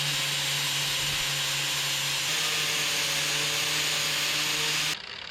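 A power tool cuts a notch into a 6x6 wooden beam for a flatbed build on a 1963 Loadstar truck, giving a loud, continuous whining grind that runs steadily for about five seconds before cutting off abruptly.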